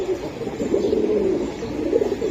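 At a pigeon market, pigeons give a continuous low cooing murmur close by, with soft overlapping calls and no speech.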